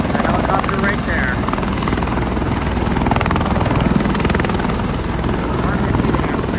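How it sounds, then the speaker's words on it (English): Helicopter flying overhead at an outdoor Las Vegas spot, a steady loud rotor drone with a continuous pulsing chop throughout, with a person talking over it. "There's a helicopter right there."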